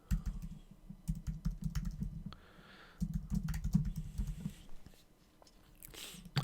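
Typing on a computer keyboard while filling in an event description: quick bursts of close, crisp key clicks in two runs, with a short pause between them and a quieter stretch near the end.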